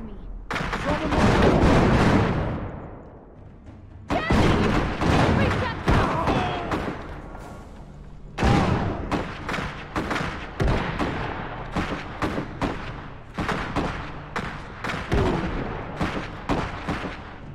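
Dense gunfire and heavy artillery blasts in the strategy game Iron Harvest, with repeated loud booms and rapid bursts that come one after another, while unit voices call out over the battle.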